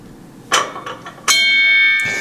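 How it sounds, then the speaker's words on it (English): An antique starting bell once used for trotting horse races, struck in a museum: a few light knocks, then one bright ring that sustains and slowly fades, followed by another faint strike near the end. "This is the starting bell for the trotting horse races."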